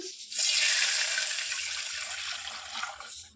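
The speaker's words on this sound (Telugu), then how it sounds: "ఈ బౌల్లోనే నేను కొద్దిగా వాటర్ అయితే వేసి ఈ పాలలో యాడ్ చేస్తున్నాను" Water poured from a bowl into milk in a kitchen: a close, steady splashing pour lasting about three seconds, then trailing off quickly.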